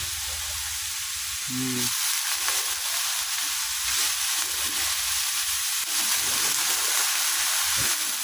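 Sliced chayote fries with chicken in a pan, giving a continuous close sizzling hiss that swells slightly after the first couple of seconds, with a short clink of utensil early on.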